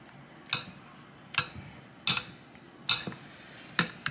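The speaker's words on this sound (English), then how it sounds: "Let's give that a stir." A spoon stirs vanilla extract into a keto pie filling in a bowl, making five or six regular, light clinks and taps against the dish, close and fairly quiet.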